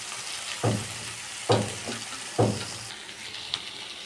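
Taro flowers going into a pan of fried chili: a soft background sizzle broken by three sharp splashy bursts of frying as pieces are added or stirred, fairly quiet overall and with no talk.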